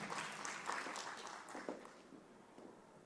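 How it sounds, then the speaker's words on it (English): A conference audience at a youth and women water and sanitation gathering applauds Ms. Mary Mareki, with a steady wash of clapping that tapers off over a few seconds, fairly faint and distant. "Another round of applause for Ms."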